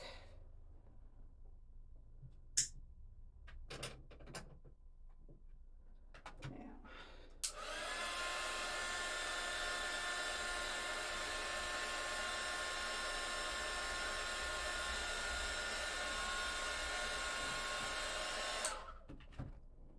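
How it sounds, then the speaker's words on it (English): A hair dryer switches on and roars steadily at close range for about eleven seconds, then cuts off, after a few soft knocks and rustles. "Now I'm going to dry it really quickly with my dryer."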